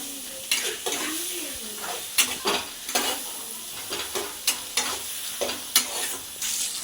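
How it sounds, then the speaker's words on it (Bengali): Ginger-garlic paste and onion frying in hot oil in a home kitchen while being stirred, with a steady close sizzle broken by repeated sharp scrapes and clinks of a utensil against the pan, with no talking. "তেলটার মধ্যে দিয়ে দেবো আদা রসুন বাটা, রসুন বাটা, পেঁয়াজ সব দিয়ে দেবো। দিয়ে একটু ভালো করে একটু কষতে হবে।"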